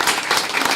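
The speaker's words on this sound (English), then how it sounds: "let's give these students a round of applause" Students at a board of education meeting receive a brief burst of steady applause from the room, dense and continuous.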